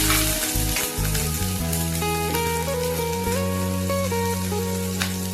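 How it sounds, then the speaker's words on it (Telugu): Green chillies crackle and sizzle in hot oil while coconut chutney is made. The frying is close and continuous, over a steady tonal hum. "నూనె వేసిన తర్వాత పచ్చిమిరపకాయలు వేసుకోవాలండి"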